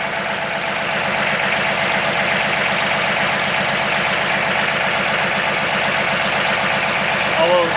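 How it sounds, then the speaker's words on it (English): A 2017 John Deere 2032R compact tractor runs with its power takeoff engaged, giving a steady, loud, close engine drone with a rhythmic mechanical churn that holds constant throughout. "we'll turn on the power takeoff here. Yeah, I can hear it running."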